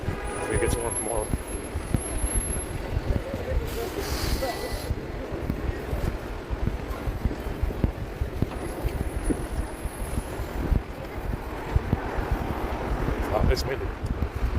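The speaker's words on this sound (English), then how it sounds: "Wow, it's windy." Gusty wind buffets the microphone with a low, rumbling roar, and voices can be heard talking through it.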